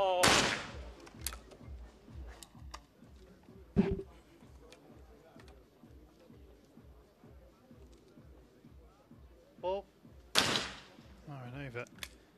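Shotguns firing at clay targets during a trap shooting competition: a few loud, sharp reports scattered across the clip, heard over steady background noise and an ongoing commentary voice.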